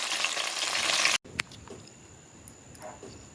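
Cabbage dumplings fry in a Jamaican home kitchen, a dense close sizzle that cuts off sharply, followed by quiet room tone with a few faint clicks.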